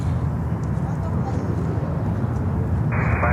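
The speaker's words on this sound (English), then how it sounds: "we have Delta coming in, 737-900 on runway 12" A Delta Boeing 737-900 from Detroit lands on runway 12 at Miami, its jet roar a steady, broad, fairly loud rumble mixed with wind, with no one talking.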